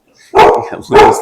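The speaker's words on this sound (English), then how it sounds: "Sorry about the dog" A dog close by lets out two loud, sharp barks about half a second apart.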